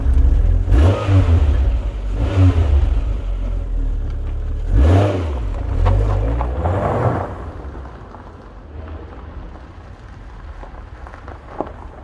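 A car engine revs while driving, with several loud surging bursts close by in the first seven seconds, then settling to a quieter, steady running hum.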